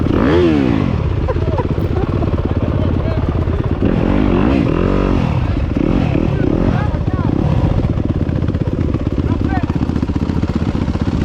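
A Yamaha YZ250FX dirt bike ridden along a single-track trail, its engine loud and close throughout, with constant throttle changes and some clatter from the rough ground.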